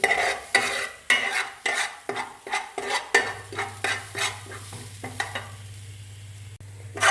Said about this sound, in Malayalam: തേങ്ങയുടെ വെള്ളമെല്ലാം പറ്റിയ ശേഷം കുറച്ച് എണ്ണ ഒഴിച്ച് വറുക്കുകയാണ്